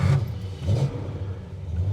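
A 1978 Aston Martin V8 Vantage flip-tail, just brought up from a basement, fires up with a low rumbling start and a brief rev before settling into a steady idle, heard close by.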